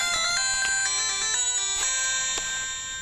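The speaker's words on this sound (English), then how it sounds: "So let's start the smartwatch up." A cheap $7 smartwatch plays its start-up tone, a bright electronic chime melody of stepped notes lasting a few seconds, clear and alone before fading out.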